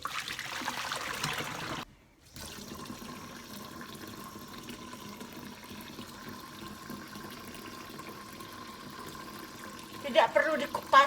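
Tap water runs in a faint, steady trickle while soybeans for homemade tempeh are rinsed, with a brief louder rush at the start and some handling splashes near the end.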